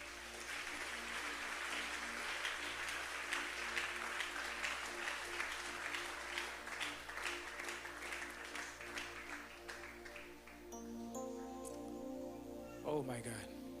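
A church congregation applauding and cheering for Jesus, dense clapping mixed with voices for about ten seconds before it fades and musical tones take over.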